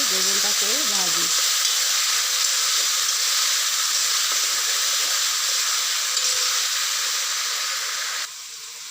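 Eggplant pieces coated with turmeric and salt fry in hot oil, giving a loud, continuous, close hiss and sizzle that carries on with little change and drops slightly at the end, with a faint voice at the start.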